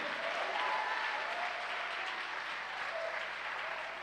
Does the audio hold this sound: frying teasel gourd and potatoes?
no